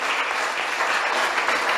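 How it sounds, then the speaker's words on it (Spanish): Steady congregational applause at a Thursday church service, a continuous dense wash of clapping with no pause. "Den un aplauso al Señor y acompáñenme"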